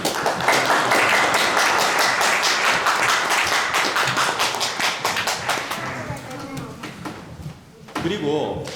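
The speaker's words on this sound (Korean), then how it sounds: "수고해주신 임원들께 박수 주십시오" Congregation clapping for outgoing men's fellowship officers during a Sunday church service in a Vienna church, a dense sustained round of applause that thins out and fades near the end, with a voice briefly heard.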